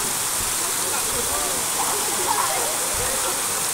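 River water pouring over a small dam at Talon River in San Jose, Batangas, a loud, steady rushing roar with no pauses, filling the whole scene up close.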